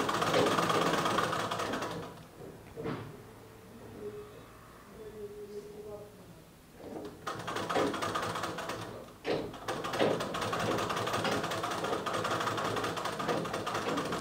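Sewing machine stitching the puff pieces of a Sabyasachi-style blouse, a steady whirring run at the start and again after a pause, with quieter moments of handling in between.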